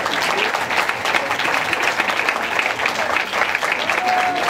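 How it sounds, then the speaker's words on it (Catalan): Loud, steady applause from a crowd at a popular bean-stew festival in the Vall de Bianya in 2013, a continuous dense patter of many hands held for the whole stretch. "Bé, doncs fem un fort aplaudiment per tothom."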